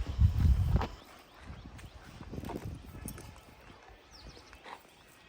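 A mare's hooves clop in a brief burst of loud, close thuds, followed by softer, irregular steps and shuffling, with faint talk in the background.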